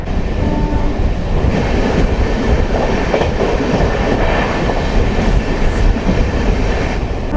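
A Banaras–Sealdah Amrit Bharat Express train runs along the rails with a loud, steady rumble and a continuous clickety-clack of wheels, close and unbroken throughout, with no voices.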